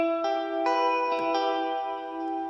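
Electric guitar chords ring out through a Strymon Big Sky reverb pedal with shimmer and stereo delay, bright sustained notes blooming into a lush, wide wash with new strums layered every half second or so.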